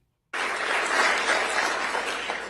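A crowd cheering and applauding at an indictment announcement, a dense, even wash of clapping that starts abruptly and holds steady, sounding fairly close and full.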